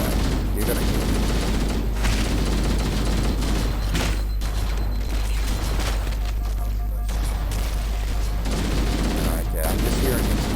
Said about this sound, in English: I'm just hearing these kind of gunshots going